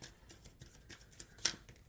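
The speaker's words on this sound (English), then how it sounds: "Shuffling for Scorpio." Tarot cards are shuffled by hand, giving soft papery riffles and taps in quick irregular bursts, fairly faint and close, with one sharper snap near the end.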